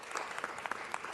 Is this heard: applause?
yes